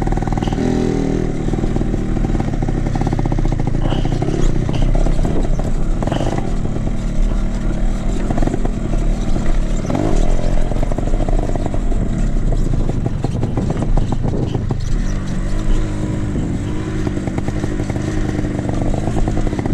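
A Yamaha RX-King motorcycle climbs a hill on a savanna trail near a crater, its two-stroke engine loud and close, revving hard and continuously throughout with clattering under the strain.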